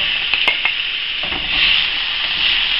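Tender beef strips browning in a hot pan give a loud, steady close sizzle, with a few light scrapes early on.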